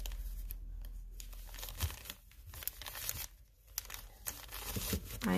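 Fabric folded over hot glue on a handmade shabby chic envelope, giving soft crinkling and rustling bursts with short pauses between, close and quiet, with no voices.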